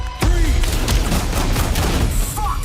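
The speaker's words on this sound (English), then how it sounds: "We've got gunshots." A rapid burst of loud gunfire crackles continuously for a couple of seconds, dense and close, in the Battlefield Hardline video game trailer, with a faint voice briefly underneath.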